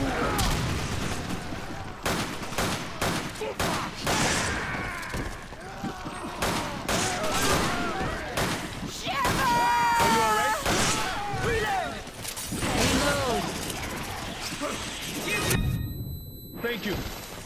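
Rapid gunfire and blasts in the Resident Evil 5 Mercenaries mode, dense repeated shots with whooshes and impacts, game character voices calling out over the action.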